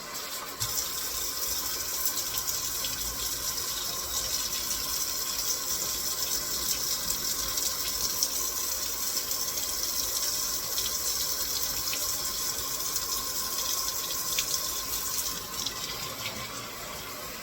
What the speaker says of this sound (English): So I soak the lentils, rinse them out.